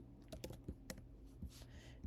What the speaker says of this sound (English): So I'm going to open up this terminal and type node-version.